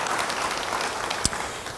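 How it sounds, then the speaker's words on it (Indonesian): Brief burst of congregation applause in a church service, a steady wash of many hands clapping with one sharper knock near the middle, fading slightly at the close. "Beri tepuk tangan bagi Dia."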